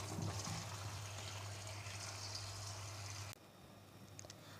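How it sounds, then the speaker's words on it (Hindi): Potatoes cut for homemade French fries rinsed under running water, a steady close splashing flow for about three seconds that cuts off, leaving faint trickles and drips. "मैंने आलूओं का पानी निकाल दिया है, यहाँ मैं इसको 3 से 4 दफ़ा वॉश करूँगी।"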